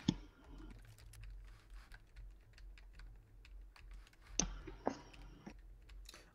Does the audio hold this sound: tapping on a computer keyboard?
yes